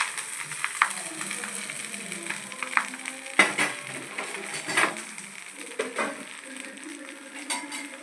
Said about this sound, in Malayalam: ഇളക്കി കൊടുക്കുക. നല്ലോണം ഇളക്കി വെക്കുക.